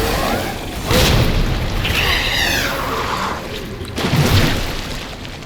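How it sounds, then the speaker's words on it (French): A grenade blast in the game Resident Evil 2 booms loudly, followed by a fading rumble and a second heavy burst. "Je vais lui mettre une grenade, c'est bon, j'ai compris."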